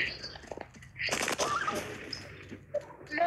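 A gunshot in the Dino Hunter: Deadly Shores video game, a sharp loud blast near the middle with a broad burst of noise, followed by lingering game sounds while a person talks.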